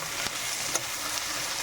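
Onions frying in a wok (kadhai), a steady close hiss of sizzling oil with a couple of brief stirring clicks, continuous and fairly loud with no talking.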